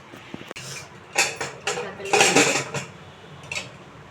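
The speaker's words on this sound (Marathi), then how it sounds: "आणि ह्याला मी झाकण मारून घेते" A metal lid clanks onto a cooking pot of boiling liquid with a few sharp, close clinks and scrapes, and a short burst of rattling in the middle.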